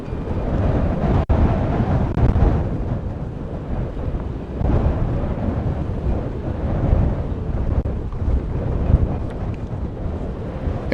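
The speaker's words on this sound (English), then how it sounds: "it is too windy to hold this cart up" Strong gusts batter the microphone outdoors in a public place, a loud continuous rumbling roar with brief sharper buffets and no voices.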